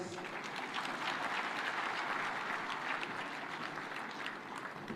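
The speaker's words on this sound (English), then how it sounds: "Another super applause for our host." Steady, fairly faint applause from a conference audience at a devolution conference in Homa Bay County rolls on for five seconds without pause, with no speech over it.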